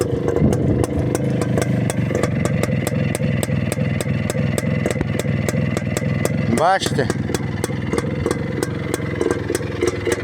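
A Muravey motor scooter with a contactless ignition idles nearby, its engine putting out a steady, even exhaust beat with a clattering mechanical texture throughout, while someone talks briefly over it.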